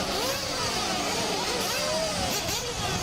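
Nitro RC trucks race in a dirt nitro main event, with high-pitched small engines whining and revving continuously in overlapping pitch sweeps against steady track noise.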